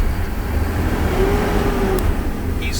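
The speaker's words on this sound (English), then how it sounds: "Once it starts to roll, give it a little fuel, get it up to no more than 5 miles per hour." A truck with automatic transmission slowly rolling forward and building speed under light throttle during a pre-trip air brake test, a steady loud low engine drone with a faint rising whine and no talk.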